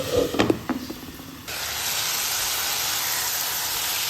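Chicken frying in oil with bay leaf and dried chili over full flame, heard as a steady loud sizzle and hiss that starts abruptly after a few soft clinks and rustles, with no talk.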